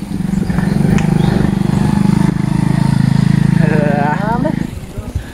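A motorcycle engine runs on a ride between farms, holding a steady, loud drone for several seconds before easing off. A voice shouts over it as it fades.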